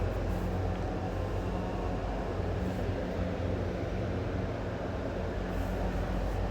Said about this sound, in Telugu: ఫ్రెండ్స్ ట్రైన్ బయలుదేరింది